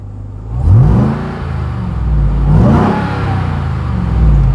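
A 702-horsepower 2021 Ram 1500 TRX pickup engine revs hard twice, climbing to a loud, close roar each time and then settling into a heavy rumble, with no talk over it.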